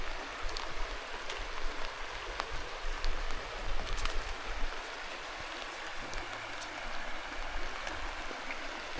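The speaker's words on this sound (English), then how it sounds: "The rain is in." Steady rain falling outdoors on the Cape Wrath Trail in the Scottish Highlands, a continuous broadband hiss with scattered droplet ticks and light wind, no speech.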